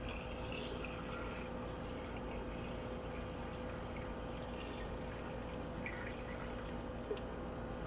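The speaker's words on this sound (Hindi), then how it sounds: "3 गिलास पानी डाल दें।" Water is poured into a cooking pot for desi chicken, a steady continuous splashing and trickling that stays even and close for several seconds, with no voices over it.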